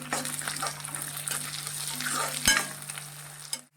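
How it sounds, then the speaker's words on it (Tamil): Curry leaves go into onions frying in a pan for a ripe bitter gourd stir-fry, giving a loud, close crackling sizzle with stirring scrapes, a sharp pop midway and an abrupt cutoff at the end. "வெங்காயம் கொஞ்சம் வதங்கினதுக்கப்புறம் கருவேப்பிலை போட்டுக்கணும்."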